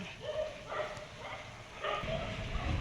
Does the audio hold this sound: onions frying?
no